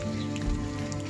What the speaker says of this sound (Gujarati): વરસાદ તો ચાલુ થઈ ગયો પાછું.